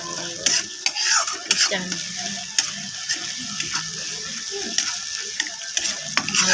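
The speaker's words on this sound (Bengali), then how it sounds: "ভালো করে মশলাটাকে আমি কষিয়ে নিয়েছি" Masala spices being fried and stirred in a pan while making ghugni with dal, a steady sizzle broken up by repeated scraping and clinking strokes of the spoon throughout, close and fairly loud.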